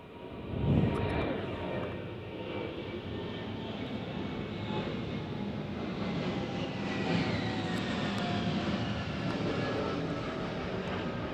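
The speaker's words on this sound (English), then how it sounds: "There's a lot of planes at my studio, and I'm sorry about that." A fixed-wing airplane passes over a studio with a broad, steady engine roar that fills the whole stretch, swelling slightly partway through and continuing without a break.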